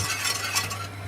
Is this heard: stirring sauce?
yes